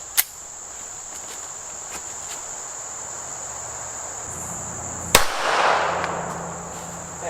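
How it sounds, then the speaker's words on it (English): A .380 SIG P238 pistol fires outdoors, giving two sharp, loud reports several seconds apart, the second followed by a brief rumbling echo, with steady cricket chirping in the background. "Next up, 380 out of the SIG P238. Let's see if I can actually hit this darn thing."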